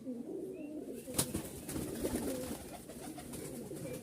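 Hand-flying pigeons kept for sale coo in soft, repeated throaty bursts at close range, with a low murmur of background noise and no talk.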